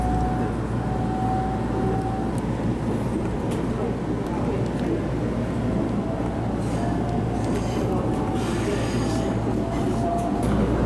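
An Iida Line local train runs alongside the lake of Hiraoka Dam, giving a continuous rolling rumble with steady low drone and faint intermittent squeals from the wheels throughout.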